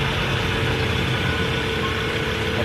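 A Mazda car engine idles steadily with its air-conditioning compressor running, a continuous close mechanical hum and rumble that stays even and unbroken throughout, with no voices.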